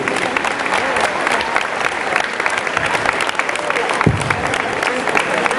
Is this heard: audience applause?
yes